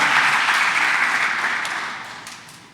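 Church congregation applauding the Lord during a sermon, a dense wash of many hands clapping that starts full and steadily fades over about three seconds, with no voices over it.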